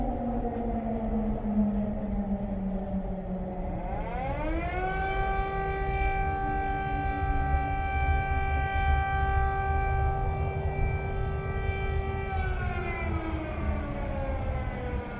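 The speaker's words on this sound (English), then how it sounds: "Right now we have air raid sirens going off." An air raid siren wails over Kyiv, rising to a loud sustained multi-tone howl that holds steady for several seconds before starting to wind down, with no talking.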